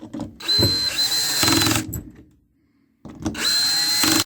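A cordless drill driver whirs loudly in two long bursts while resealing a Kinetico water softener control head, with a brief pause of near silence between them, close up.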